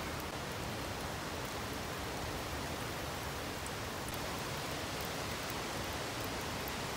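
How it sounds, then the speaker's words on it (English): Heavy rain pours steadily onto a camping truck during a windy storm in Copper Harbor, Michigan, a dense, continuous hiss and patter heard from inside the cab. "It's raining like crazy in here now."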